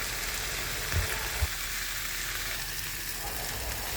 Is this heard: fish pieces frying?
yes